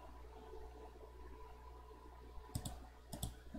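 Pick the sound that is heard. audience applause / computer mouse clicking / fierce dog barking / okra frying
computer mouse clicking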